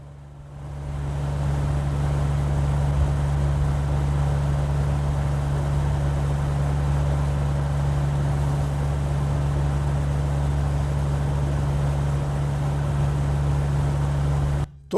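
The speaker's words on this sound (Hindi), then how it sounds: "जस्ट मैं हाई सेटिंग में फ़ैन को ऑन करके आपको इसका नॉइज़ सुनाने वाला हूँ।" A Bajaj DMH 90 air cooler fan runs on high, a steady loud whooshing drone with a low motor hum that starts up and continues unchanged until an abrupt stop.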